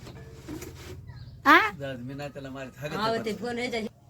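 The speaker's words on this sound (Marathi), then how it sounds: "दुकानामध्ये चिमणीचं पिल्लू आलंय बघ ना काय आवाज बोलत आहे कसं चिव चिव" A sparrow chick inside a shop gives a sharp, high chirp partway through, set among nearby voices that talk before and after it.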